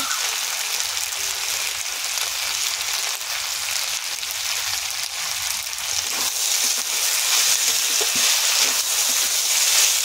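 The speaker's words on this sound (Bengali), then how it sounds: "ভালো করে কষে নেব" Tomato and bhola fish sautéing in a pan for a spicy chorchori with ginger, garlic and green chilli paste: a steady, close hiss of sizzling oil that swells slightly louder toward the end, with no talk.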